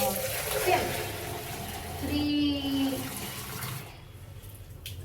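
Water poured by mug into a bucket for dyeing jeans splashes and gushes in bursts, with a spoken word partway through.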